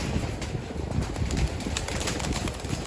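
A pigeon bursts from a loft's release opening with dense, rapid wing flaps, a steady close clatter of feathery beats lasting a few seconds with no voices.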